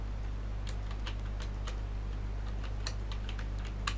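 Light, quick tapping on a computer keyboard, quiet and close, in uneven clusters of keystrokes over a steady low electrical hum, with no voice.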